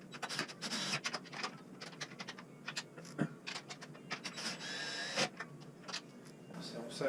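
A 13 mm wrench ratchets and clicks while bolts are tightened on a Mustang Shelby GT500 S197 during a VMP heat exchanger install, producing irregular bursts of metallic clicking and scraping, close and fairly faint, with speech in between.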